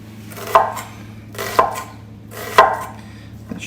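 Onion chopped with a knife on a cutting board: three sharp, separate chops about a second apart, close and fairly loud, with no talking.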